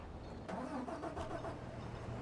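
A Scania truck engine in Farming Simulator 25 cranks and catches, settling into a medium rumbling idle with a brief burst near the end, with no voices over it.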